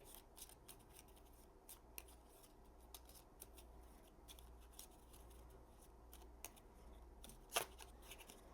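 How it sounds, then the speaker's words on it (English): Cards from the Bloodborne board game being shuffled by hand, soft close riffling and sliding with scattered light snaps and one sharper flick near the end, quiet against a low room hum. "shuffle our cards"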